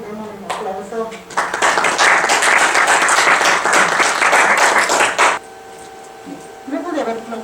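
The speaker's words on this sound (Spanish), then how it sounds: "Demos un aplauso." Audience applause breaks out after a mechatronics engineering thesis defense presentation, a dense steady burst of clapping lasting about four seconds, with speech before it and a voice resuming after it stops abruptly.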